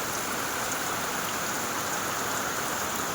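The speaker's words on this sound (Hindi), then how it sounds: "खतरनाक बारिश आ गई है।" Heavy downpour on a rural farm, a dense, steady hiss of rain pouring down at constant loudness with no voices, filling the whole moment without pause.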